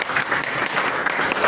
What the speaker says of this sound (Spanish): un aplauso a la compañera